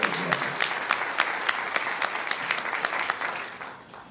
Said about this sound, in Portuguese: os nossos aplausos por mais esse avanço na legislação brasileira e do Brasil